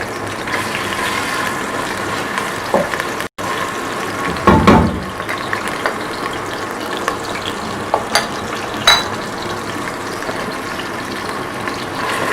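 Freshly made ginger and garlic paste frying in oil, a steady close sizzle and crackle that runs throughout, broken by scattered spoon knocks and a brief stir near the middle, with no voices.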